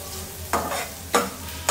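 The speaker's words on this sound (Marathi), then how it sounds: "शिमला मिरची, बीट पण टाकून घेते कारण बीट शिजायला वेळ लागेल, त्याच्यामुळे मी छान त्याला आता परतून घेते" Capsicum and beetroot sautéing in a pan, with a soft sizzle under two or three scraping stirs of a spatula, close and fairly loud.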